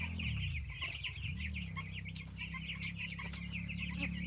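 Young chicks in a grass chicken tractor cheep and cluck in quick, busy bursts over a low background hum, close by and faint overall.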